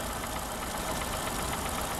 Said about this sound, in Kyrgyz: Моторлору да жакшы эле иштейт окшойт.